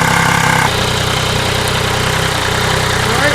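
A 2015 Yamaha FJ-09 motorcycle idles steadily while warming up, a loud, close, even engine rumble with a constant rhythmic pulse and no speech.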